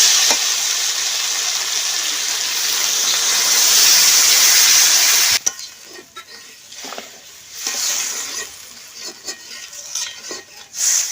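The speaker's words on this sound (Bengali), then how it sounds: "তো এখন জল দিয়ে দিচ্ছি।" Water hits a hot pan of browned country chicken and oil in a village kitchen, setting off a loud, steady hiss of sizzling steam that cuts off sharply, followed by softer bubbling and scattered stirring noises.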